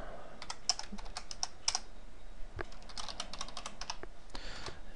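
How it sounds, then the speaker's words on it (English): Rapid, uneven bursts of keystrokes on a computer keyboard while Java code is entered, close and fairly quiet, with brief pauses between flurries and no talking. "As you can guess what's going on with this code as I'm feverishly typing."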